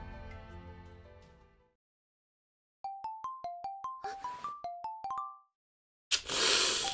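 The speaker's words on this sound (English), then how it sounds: "I woke up to the sound of my ringtone." Phone ringtone in the Black Lily's Tale video game, a quick series of plucked, bell-like melodic notes played after a fading chord, with a louder noisy burst before and after.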